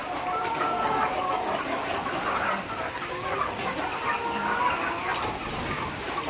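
A flock of chickens clucks continuously inside a poultry shed, a dense, moderately loud chorus of overlapping calls with no pauses.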